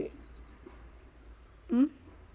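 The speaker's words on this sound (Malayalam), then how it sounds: "അണ്ണാൻ കരയുന്ന കേട്ടോ" A squirrel gives a single short, loud squeaky call near the end, standing out over a quiet outdoor background with faint earlier chirps.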